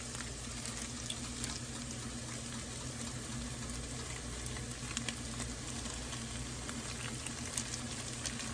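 Garlic and tomato paste sizzle steadily in a very hot pan while cooking tomato soup, a constant close crackling hiss with faint spatters and no talking.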